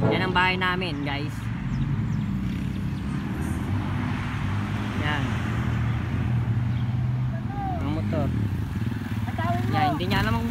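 Army motorcycles run during a training session near a house, their engines droning steadily and closely throughout while someone talks over them.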